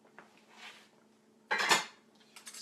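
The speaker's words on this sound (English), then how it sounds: "I'm going to scoop some out and put them in my ricer" Boiled potatoes, cooked very soft, scooped into a potato ricer for cheesy mashed potatoes: faint clinks of a spoon against metal, then one louder clattering scrape as a scoop drops into the ricer, with no talking.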